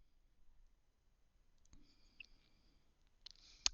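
Computer mouse clicks in a quiet room, a few sharp faint clicks, the last one slightly louder.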